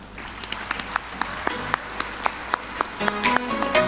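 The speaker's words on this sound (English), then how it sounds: "Shall we give them a round of applause?" An audience at a national architecture conference claps after a panel session, a thin, scattered round of individual claps at an irregular pace that grows a little fuller at the end.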